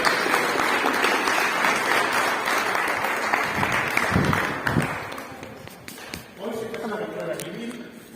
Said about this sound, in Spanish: les pido un aplauso para Daniel y para la señora Saavedra.